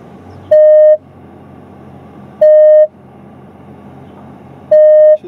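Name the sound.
car parking sensor beeping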